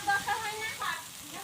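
A spice masala sautés in a pan after a splash of water, giving a soft, steady sizzle with light bubbling, close and fairly faint throughout.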